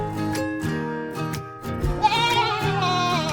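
Short, wavering bleats from a baby goat on a farm, heard up close and fairly loud, several calls in quick succession with no talking.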